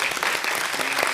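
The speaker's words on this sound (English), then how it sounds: "Let's give a round of applause for our speakers." A brief burst of dense audience applause for the speakers at a conference hall, steady and fairly loud throughout.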